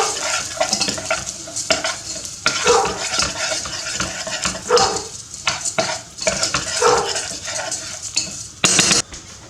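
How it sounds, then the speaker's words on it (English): Uncooked rice browns in oil while a utensil stirs it, making a busy rattle of scraping and clinks against the pan over a soft sizzle, with a sharp metallic knock close to the end. "1 cup of rice, uncooked rice, and we'll just brown that in the oil for a wee minute"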